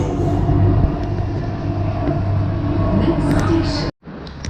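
A Chennai metro train at Little Mount station rumbles steadily with a low droning hum, loud and close throughout, briefly cut off near the end before the rumble resumes.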